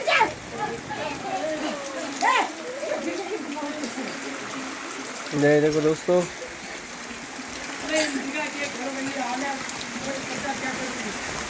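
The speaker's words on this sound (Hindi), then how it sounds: "मौसम बहुत तेज बारिश आ रही है।" Heavy rain falls over a village, a steady hiss and patter of water running through the whole stretch while someone talks over it in bursts.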